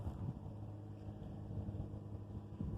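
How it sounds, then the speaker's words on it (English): Wind buffets the microphone outdoors in an orchard, a steady low rumbling roar with gusty surges, with no other sounds. "This wind isn't too bad today."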